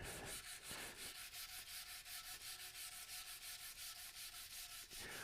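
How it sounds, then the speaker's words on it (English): Sandpaper works oil into a walnut vase, making a quick, even rhythmic rubbing, with repeated back-and-forth strokes at a steady pace, close but soft. "What grit of sandpaper am I applying with the oil?"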